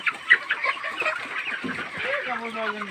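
Chickens on a poultry farm cluck and chatter busily at close range, with several overlapping calls and a drawn-out tonal cry toward the end.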